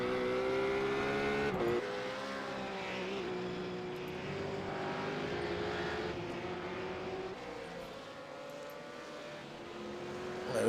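Ruf supercars race at Imola, their engines droning and shifting pitch as they pass one after another, loud and steady with a brief rise at the end.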